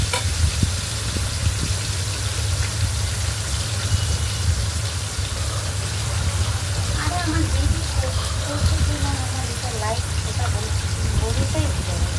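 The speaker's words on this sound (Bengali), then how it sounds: "একটু ভালো করে উল্টা পাল্টা ভেজে নেব, হালকা করে ভাজবো বন্ধুরা" Fish fry in a pan with a dense, loud, continuous sizzle and crackle of hot oil, with light bubbling throughout.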